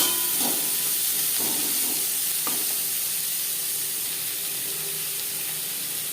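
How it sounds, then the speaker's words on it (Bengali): Onions fry lightly in a little oil for a mourola fish curry, giving a steady soft hiss and sizzle close by, with a few faint stirring clicks early on. "পেঁয়াজ হালকা করে ভেজে নেব।"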